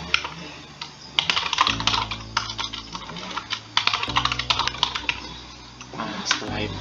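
Rapid clicking of a computer keyboard as a password is typed during a UniFi controller setup on Windows 10, irregular bursts of close keystrokes over a low steady hum.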